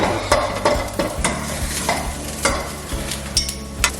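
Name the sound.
spring onion and garlic stir-frying in a pan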